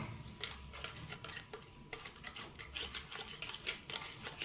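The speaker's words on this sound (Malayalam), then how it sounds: "എന്നിട്ട് നമുക്ക് ഇത് വെച്ച് നല്ലോണം ഇളക്കി കൊടുക്കാം കേട്ടോ." Spoon stirring turmeric powder into a beaten egg mixture in a bowl, a steady run of quick close scraping and tapping strokes with soft liquid patter, no voices.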